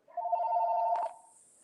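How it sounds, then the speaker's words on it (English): A telephone gives one steady electronic ring lasting about a second, close and fairly loud, then cuts off into near silence with a faint high tone remaining. "My phone's ringing here."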